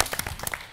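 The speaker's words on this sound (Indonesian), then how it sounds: "Boleh tepuk tangan dulu untuk grup biru." Studio audience on a TVRI quiz show clapping for the blue team, a brief burst of scattered, moderately loud hand claps with no voice over it.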